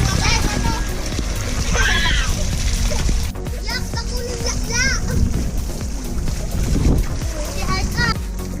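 Children splashing and playing in a barangay's flowing water in Salogon, San Jose, Camarines Sur, with close, repeated splashes mixed with excited kids' shouts and chatter throughout.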